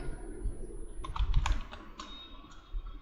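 Quick, light clicks from a computer mouse or keyboard while working in SolidWorks. A short burst of close taps comes in the middle, then a few sparse clicks follow over a faint low hum.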